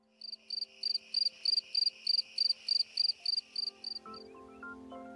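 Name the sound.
Gryllus pennsylvanicus field cricket chirping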